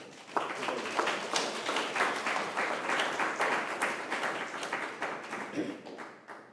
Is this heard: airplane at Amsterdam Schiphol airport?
no